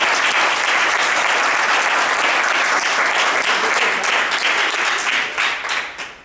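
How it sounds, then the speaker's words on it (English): Sustained applause from an audience, dense steady clapping throughout that begins to thin and fade in the last second. "And again, an applause for him."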